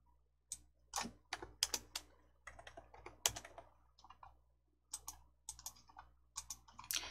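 Computer keyboard keys pressed in quick uneven bursts of sharp clicks, close and clear against a quiet background, with pauses between runs.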